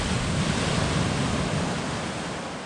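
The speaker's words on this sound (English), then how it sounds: "the sea is galloping in like a racehorse" Sea surf rolling onto a shore at night, about ninety minutes before high water as the tide floods in fast; a steady, loud broadband wash of breaking waves with no gaps, close to the listener.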